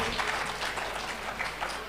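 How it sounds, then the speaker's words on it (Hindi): Audience at an Indian awards ceremony giving Rajesh a hearty round of applause, a continuous even burst of clapping from a crowd, heard close and unbroken. "एक बार जोरदार तालियां हो जाए राजेश जी के लिए"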